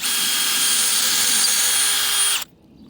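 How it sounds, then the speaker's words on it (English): A power drill whines loudly and steadily for a couple of seconds as it bores about 2 inches into a tree trunk, then abruptly stops. "we're going to drill right into the tree, like I said, about 2 inches deep."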